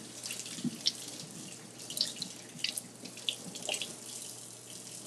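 Lemons washed under a running kitchen tap: a steady stream of water splashes close by for several seconds, with uneven spatters and small knocks as the fruit is turned and rinsed, and no voices.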